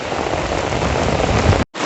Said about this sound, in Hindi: तो खतरनाक बारिश हो चालू हो गए